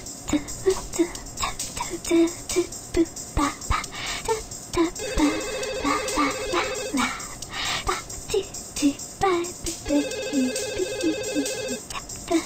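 A telephone rings in the video game Conker's Bad Fur Day, two bursts of an electronic ring repeating over a busy game soundscape with music and small voices.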